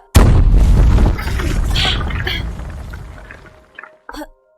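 Barrels blow up in a video game, a loud deep boom that bursts at once and rolls on for a few seconds before fading, followed by a couple of brief small pops.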